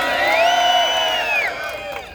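A large crowd at a New York rally cheers and whoops loudly, with high shouts and sustained voices rising together and then easing off over about two seconds.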